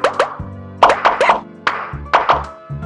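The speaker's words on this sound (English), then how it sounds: "Now tap all the bubbles to pop them." Cartoon bubbles pop in a PAW Patrol bubble-bath game: about nine loud, bright plops in quick irregular succession, alone and close.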